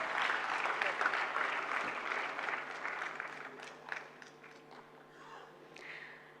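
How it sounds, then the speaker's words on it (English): A conference audience applauds steadily after an award, dense clapping that gradually thins out and fades toward the end. "can I hear a huge round of applause?"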